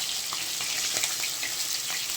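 Turned-over hilsa fish pieces keep frying in oil, giving a quieter, even sizzle with small pops and crackles, heard alone.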